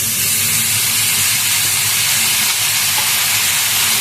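Spinach tipped into a hot pan of fried spices, half-fried potatoes and mung lentils, setting off a loud, continuous hiss and sizzle close up, with no voices over it.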